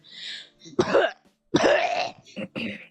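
A person coughs and clears their throat close up, a few harsh rasping bursts separated by short pauses.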